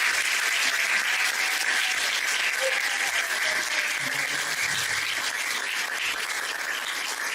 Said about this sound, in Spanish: voy a pedirles el favor que recibamos con un aplauso bien fuerte a Santiago Alarcón.